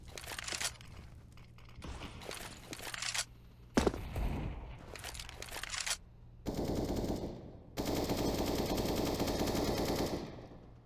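Rifle gunfire in a Counter-Strike esports match, with bursts of rapid automatic shots and single cracks in quick succession, then sustained sprays of fire toward the end, fairly loud and close with no talk.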